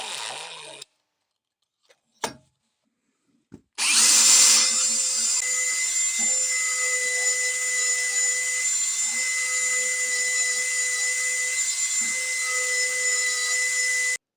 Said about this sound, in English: Now I am drilling the holes for the grease nipples in the pins.